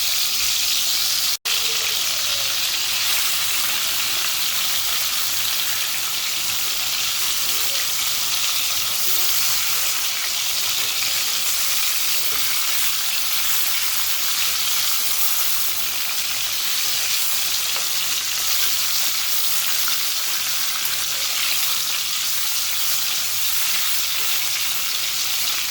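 Prawns fry in a pan with a steady, dense sizzle and hiss that holds at an even level throughout, with no talk.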